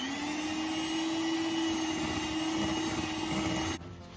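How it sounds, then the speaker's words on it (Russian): An electric hand mixer whirs steadily while beating cake batter with butter and full-fat sour cream for a lemon pie, a loud, continuous motor drone heard alone that cuts off near the end. "Перемешиваю миксером"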